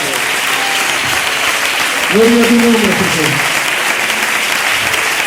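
A congregation at an evangelical church convention breaks into loud sustained applause that fills the room, while a voice calls out praise over the clapping.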